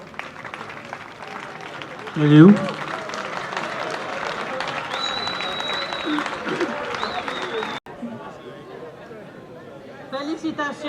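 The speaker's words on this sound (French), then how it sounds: "Applaudissons." An audience applauds as a graduate is called up at a diploma ceremony in Congo, with a brief burst of clapping and crowd chatter that carries on beneath talking.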